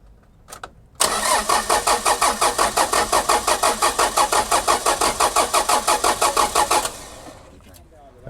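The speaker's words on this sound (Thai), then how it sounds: "ลองสตาร์ทดูแล้วไม่ติดนะ เหมือนจะติดแต่ยังไม่ติดครับ" A Mitsubishi L300 van engine cranks steadily for about six seconds with a loud, even rhythmic churn, catching faintly but failing to start, then stops; brief sounds come before and after.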